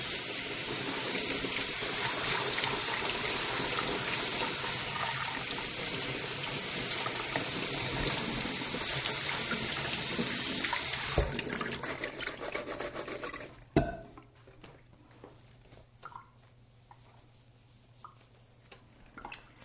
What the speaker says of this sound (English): Going to give them a good rinse.